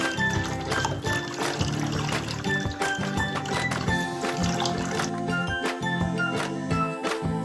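Water drains and trickles steadily from washed, salted kimchi cabbage sitting in a drainer, a continuous close dribble running under a layer of ringing tonal sounds with no talk.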